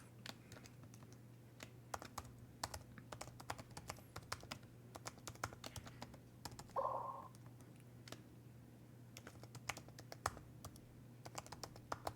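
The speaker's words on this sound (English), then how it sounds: "Let me type this up." Steady keyboard typing, a run of light, fast key clicks close by at a quiet level over a low hum, with a short louder burst partway through.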